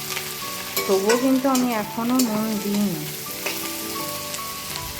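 Onions fry unsalted in a pan as they turn reddish, a continuous soft sizzle with light stirring beneath a person talking close by.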